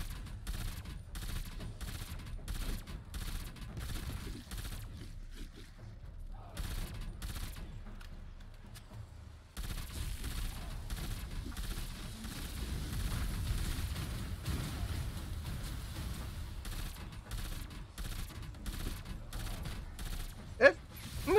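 A Call of Duty Zombies turret fires steady rapid gunfire in the Forsaken map, heard fairly faintly as a rattling stream under game noise, with a brief lull before the shooting picks up again.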